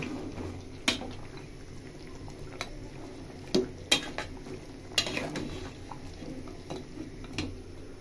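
Qurbani beef cooking in a pot, a low simmering bubble under scattered metallic clinks and scrapes of a utensil against the pot, with sharper knocks near the start and middle.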